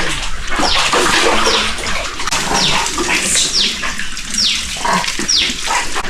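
Water flowing steadily along a forest trail on a mountain, a loud close rushing wash with birds chirping repeatedly over it, no talk.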